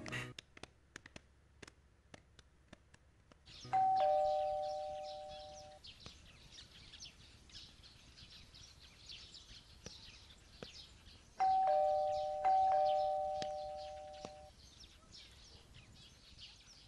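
A doorbell rings twice in a house, each a clear two-tone chime that rings out and fades, with quiet indoor noise and faint voices between the rings.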